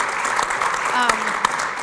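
Audience applause at a philanthropy program event, a steady dense wash of clapping at moderate loudness with a faint voice briefly over it.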